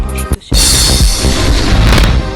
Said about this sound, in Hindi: लगातार गोलीबारी से धुआं हुआ साइटोवोका का इलाका।